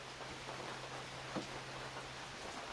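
Steady rain falls outdoors at dusk, an even hiss heard from indoors, faint and continuous with no talking.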